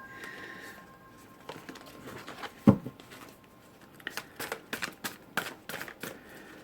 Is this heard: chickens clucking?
no